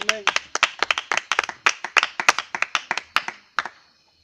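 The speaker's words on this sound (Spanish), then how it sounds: "¿Cuántos podemos dar un fuerte aplauso al Señor en esta noche?" A church congregation claps together during an evening service, a quick run of sharp, uneven hand claps that carries on for about three and a half seconds, then stops abruptly with one last clap.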